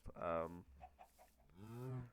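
Minecraft cows give two mooing calls, one short and one longer, each a low drawn-out moo. Both sound close and fairly quiet, separated by a brief pause with faint clicks.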